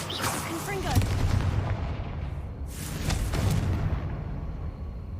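The Confringo blasting spell in the Hogwarts Legacy video game goes off as two loud booming bursts with crackling tails, one near the start and another about three seconds later, with a voice speaking over part of it.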